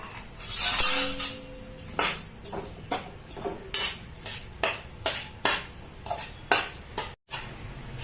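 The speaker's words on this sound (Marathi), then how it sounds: "खारीक ड्रायफ्रुट्स बदाम काजू हे सगळं आपण भाजून घेऊ स्लो गॅसवर भाजून घेऊ" A spoon scrapes and clinks in a rhythmic series of strokes against a pan as dry dates, almonds and cashews roast in two spoons of ghee over a low flame, close and fairly loud.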